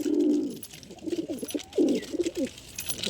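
Pigeons cooing in a loft, with soft repeated throaty coos close by and faint rustling between calls.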